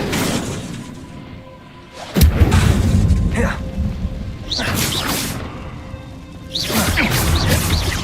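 Incendio, a fire spell in Hogwarts Legacy, bursts out as a loud booming whoosh, followed by further crashing magical impacts and swishes in a busy, close-up game soundscape.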